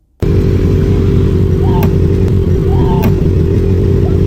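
Motorcycles and a car race along a road in pursuit, a loud, steady engine roar that stays constant throughout, with brief high whines cutting through twice.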